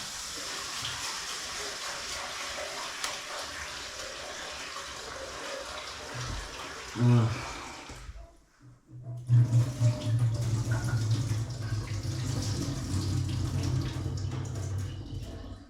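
Tap water runs into a sink while food is washed, a steady close rush broken by a brief gap before the flow returns with heavier splashing and gurgling.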